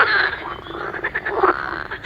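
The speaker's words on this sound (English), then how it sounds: "Can you tell sound of frog?" A frog croaks continuously with a rough, rhythmic pulsing, fairly loud and close, with no talking over it.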